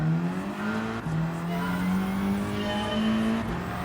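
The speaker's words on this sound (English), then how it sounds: "Yeah, this car sounds like your average Volkswagen." Engine of a car in the racing game Gran Turismo 7, a steady droning hum that rises in pitch with brief shift dips, continuous and close with no voices over it.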